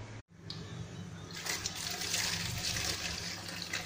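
Coolant-flush water runs out of a Yamaha GTS 1000 motorcycle engine, a faint steady trickle that swells into a gushing flow and continues to the end.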